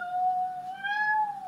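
A cat lets out a long, drawn-out meow, rising and falling in pitch, fairly quiet and close with a soft background hum.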